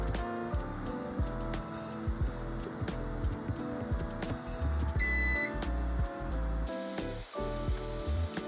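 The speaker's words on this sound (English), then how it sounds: "when we actually find continuity, we're going to hear that thing beep at us" Repeated electronic beeps from a multimeter in continuity mode, sounding in short bursts near the end as solder joints on a Sega Dreamcast board are probed during a DCDigital HDMI mod, over a steady background hiss and light handling clatter.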